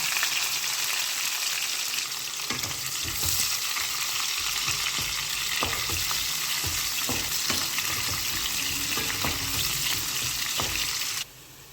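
Onions for a lady finger curry fry in plenty of hot oil with dried red chillies and tempering seeds, a dense steady sizzle with repeated spoon scrapes and stirring knocks, close and loud, cutting off near the end.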